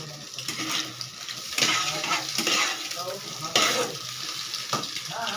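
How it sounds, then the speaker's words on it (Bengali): Grated vegetables fry with salt and turmeric in a pan, a steady sizzle broken by repeated scraping strokes of a spoon stirring, close and fairly loud with no talk. "আবার একটু ভাজা ভাজা করে নেব।"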